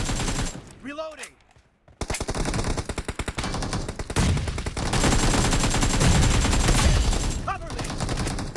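Video game gunfire in a team match, rapid automatic bursts in fast rhythmic volleys with continuous loud shooting, a brief lull, and a voice talking.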